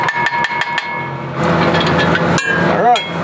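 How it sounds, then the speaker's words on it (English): A punch struck with a hammer drives a pin out of a part on a Fendt tractor. Several loud, sharp metallic blows ring out in quick succession, then a rougher scraping clatter and one more strike. "So I got a punch and a hammer to make sure the other one's gone."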